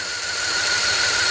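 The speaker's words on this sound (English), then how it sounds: "see if it'll idle" An abandoned SUV's engine runs just after its first start, a loud, steady roar with a whining high tone and a slight wavering unevenness, and no voices are heard over it.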